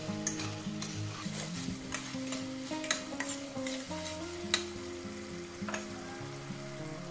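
Tomatoes frying in a spiced masala for a bottle gourd and shrimp curry, a steady close sizzle with repeated stirring scrapes and clinks of a utensil against the pan.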